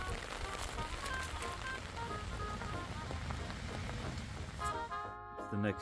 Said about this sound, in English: It's been raining steadily.